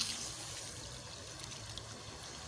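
Sugar poured into water for a cardamom halwa syrup, a soft steady trickling pour that runs close and fairly quiet for the whole stretch, with no talking over it.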